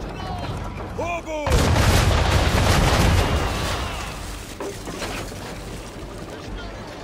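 Ship cannons in Assassin's Creed III fire a broadside, a loud booming volley that erupts after a brief pause and rumbles on for several seconds, with a voice calling out before the barrage.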